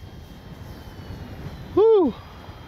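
An Arrows RC Corsair model airplane zips past in a short, rising-then-falling engine whine. The pass is brief and fairly close, set against faint wind noise.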